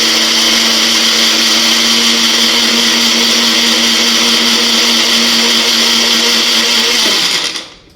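A Nutri Blend mixer grinder runs with a steady, loud whine and whirr, holding an even tone before winding down and stopping near the end.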